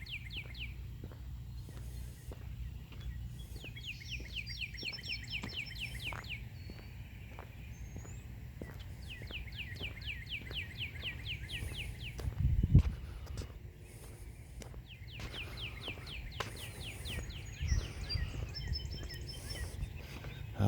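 Small birds chirp outdoors on a fine day in repeated bright trills against a steady low rumble, with some rustling and a few thumps mixed in and no talk.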